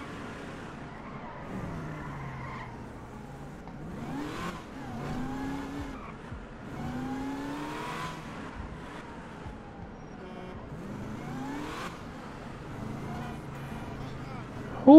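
A car in the GTA V video game drives with its engine revving and its tires squealing in repeated skids, moderately loud, while someone talks over it throughout.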